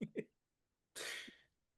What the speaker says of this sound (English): sorry, keep coughing